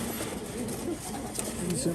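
Pigeons kept in cages, among a keeper's hand-picked collection, coo softly and continuously at close range, with someone talking over them throughout.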